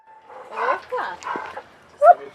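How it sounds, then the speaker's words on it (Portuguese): A dog greets arriving visitors at a family home, giving a short bark or yelp near the end that cuts sharply through people talking. "Fomos recebidas primeiro por um cachorro"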